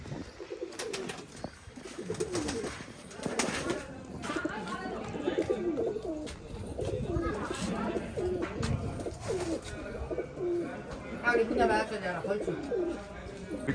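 Pigeons coo near a pen where a man keeps and flies them, their soft calls running through a constant murmur of speech that continues throughout.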